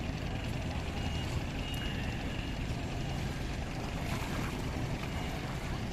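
A boat moving on the Ganges river along the Varanasi ghats, a steady engine drone with water and wind noise that stays constant and fairly close throughout.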